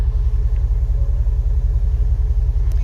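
A car fitted with Flowmaster FX mufflers and the factory tips idles close by, its exhaust giving off a deep, steady, pulsing rumble with no talking.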